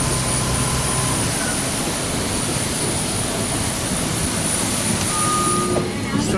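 A continuous airplane engine drone runs throughout, loud and close, with a high whine over a broad roar, heard near the aircraft's boarding stairs.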